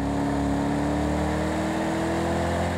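A steady racing car engine drone hums continuously at constant pitch in Project Cars 2 at Silverstone, mechanical and somewhat synthetic, with no voices.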